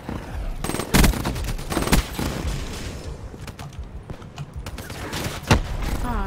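Gunfire in Call of Duty Black Ops III multiplayer, with scattered sharp shots and short bursts among clattering game effects, loud and close.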